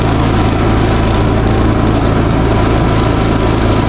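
A WEN DF4801X dual fuel inverter generator idles outdoors, giving a steady, even engine drone with a buzzing hum that stays constant and fairly loud throughout, with no talking.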